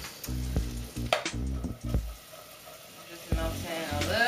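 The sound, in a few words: butter melting and sizzling in a pan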